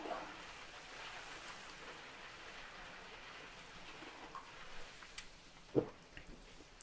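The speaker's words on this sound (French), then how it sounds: "quand la pluie tombe, la pluie tombe." Soft, steady rain hiss fills the scene at a low level, with a few sharper drips and one brief louder tap near the end.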